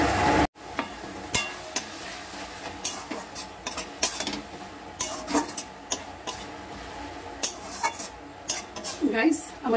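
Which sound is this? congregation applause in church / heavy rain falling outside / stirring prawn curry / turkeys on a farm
stirring prawn curry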